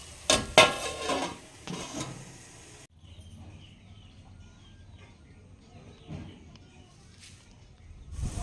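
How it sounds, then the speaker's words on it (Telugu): A lid clanks onto a metal cooking pot of tamarind fish curry, two sharp metallic knocks and a rattle in the first few seconds, followed by quiet kitchen background and faint clinks. "మనం మూత పెట్టుకుంటాం."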